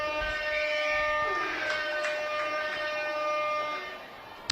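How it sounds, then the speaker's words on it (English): A hooter sounds at a touch rugby match, a long steady horn blast carrying over the open ground and lasting several seconds, with faint crowd noise under it. "there's the hooter going all around Banbury"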